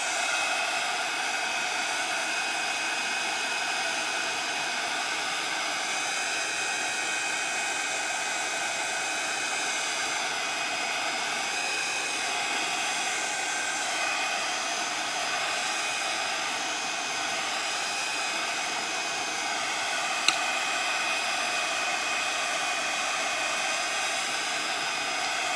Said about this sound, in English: Let me just heat that to dry it.